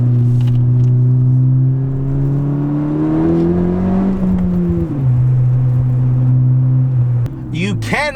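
A 2018 Honda Civic Si with its mufflers deleted accelerates on a winding road, its engine a loud, raspy drone that climbs steadily in pitch, drops at a gear change, then holds steady before a brief burst of noise.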